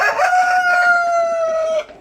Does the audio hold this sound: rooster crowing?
yes